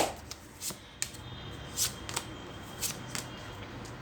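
Tarot cards being shuffled by hand, giving a run of crisp riffles and soft slaps at an irregular pace, close and fairly quiet with no talk.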